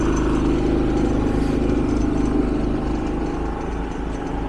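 A portable generator running steadily while charging a Hyundai IONIQ 5, a continuous low engine drone heard close up, easing slightly in level toward the end.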